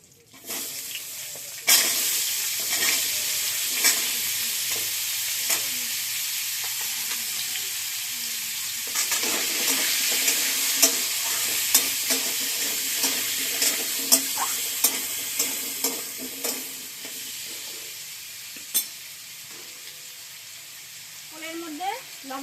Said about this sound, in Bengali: তেলটা গরম হয়ে গেছে ওল দেবো